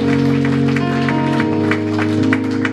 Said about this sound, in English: Clap for Jesus, somebody